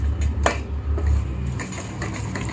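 A spoon scrapes and clinks in a pan while stirring melting chocolate with ghee, soft irregular metallic taps and scrapes repeated close by over a low steady hum.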